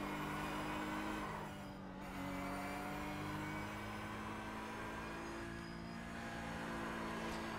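Engine of a Porsche Cup race car in the iRacing sim, held on throttle while the brakes drag, a steady loud droning roar with a brief dip near two seconds, otherwise continuous and close.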